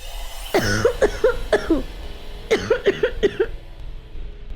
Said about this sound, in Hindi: खांसी